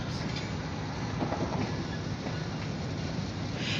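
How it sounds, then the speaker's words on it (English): A very short freight train on the OC&T line near Titusville rolls past on the rails, giving a steady, fairly loud rumble with faint wheel clatter throughout and no talking. "We got a very short freight train."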